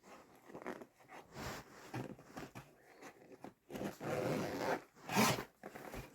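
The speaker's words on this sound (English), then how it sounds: "Unzip this." A small gray and pink carrying case being unzipped: several bursts of close zipper rasping of varying length, separated by brief pauses, with a final sharp pull near the end.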